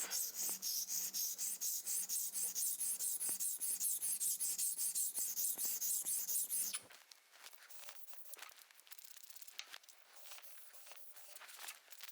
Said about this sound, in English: we place this on the stone and then begin to sharpen.